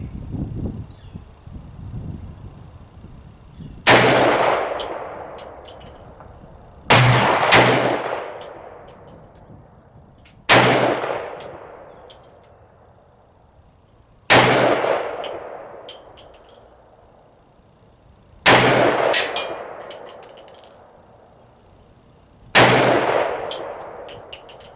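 A Desert Eagle fires .44 Magnum 240gr round-nose flat-point rounds outdoors: six loud, widely spaced shots, each followed by a ringing decay and metallic clang from a steel target.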